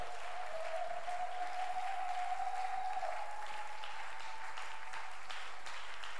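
A church congregation applauds the Lord in a steady, continuous wash of clapping, somewhat distant and reverberant, with a sustained tone running beneath it and no clear speech.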